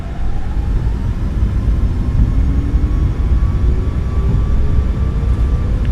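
Boeing 737 MAX8 jet engines at takeoff power in the MSFS2024 flight simulator, a loud steady roar with a broad rumble and a slowly rising whine that holds through the whole stretch, heard from the cockpit.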